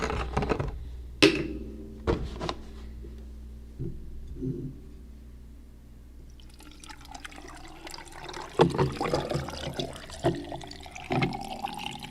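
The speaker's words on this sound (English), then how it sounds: "And nice cold water." Cold water pours and splashes into a vessel, with several sharp clinks and knocks early on, then a fuller, louder gush of running liquid in the second half.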